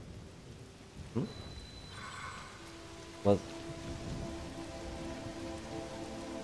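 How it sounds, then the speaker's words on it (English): Rain and thunder in Zelda: Tears of the Kingdom, a steady wash of rainfall with a sharp thunder crack about halfway through and a softer rumble earlier, a brief spoken word over it. "I think the rain just had to load again"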